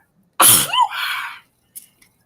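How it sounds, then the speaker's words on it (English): A single loud, close human sneeze with a sharp explosive onset and a short trailing voiced release, followed by a faint breath or sniff in an otherwise quiet room. "Hang on, I'm gonna sneeze."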